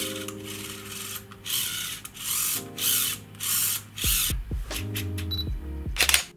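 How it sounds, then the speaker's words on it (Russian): A repaired Canon 1200D DSLR with a replaced lens gear runs through tests, giving whirring autofocus and lens motor buzzes and shutter clicks in repeated bursts, close and fairly loud, with no talking. "Еще раз проверяю работу камеры."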